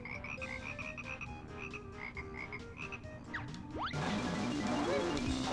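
Frog enemies in the Banjo-Kazooie video game croak in quick repeated bursts, several short calls in a row over game music, followed by a louder burst of game effects.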